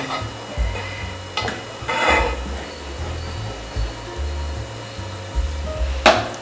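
Milk thickening in a pan for basundi, a sweet milk dessert, is stirred steadily, giving soft repeated scraping and swishing strokes over a low steady hum, with one sharper clatter near the end.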